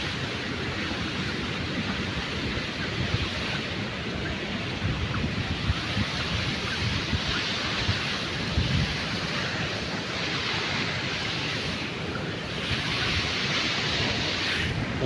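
Floodwater from a dam burst after heavy rain surges past farm fields in a continuous loud roar, a dense unbroken rushing with gusty swells throughout.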